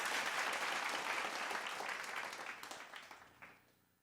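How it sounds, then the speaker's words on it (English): An audience at a city State of the City address claps in sustained applause that gradually thins out into scattered claps and fades away. "Let's give that team a big round of applause."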